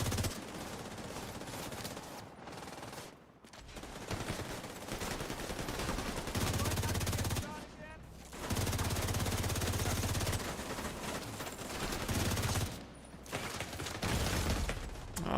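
Sustained automatic gunfire from The Division 2 video game, long loud rattling bursts separated by short gaps, with no talk over it.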